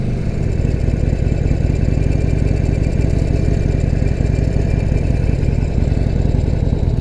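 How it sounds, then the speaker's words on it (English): A Harley-Davidson Sportster Forty-Eight V-twin motorcycle engine runs loud and close with a rapid uneven lumpy pulse and a deep rumble, heard alone with no speech. "You can tell it's a V-twin."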